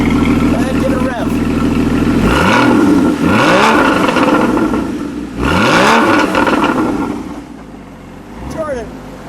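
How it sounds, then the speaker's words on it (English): A white 2016 Porsche Boxster Spyder with a flat boxer engine is revved hard several times, each loud blip rising and falling back to a rough idle, while people talk nearby. "Go ahead, give it a rev."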